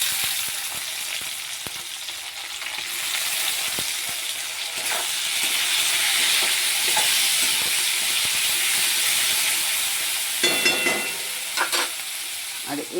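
Crushed onion and tomato go into hot oil with already fried onions for palak paneer, giving a loud, sustained hissing sizzle with stirring scrapes and a few sharp clinks near the end.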